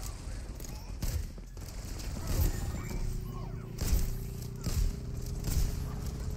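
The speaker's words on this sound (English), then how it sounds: "Let me shoot you, dang it!" Rapid gunfire bursts from an Overwatch match crackle in several clustered volleys, mixed with busy in-game effects and movement at moderate loudness.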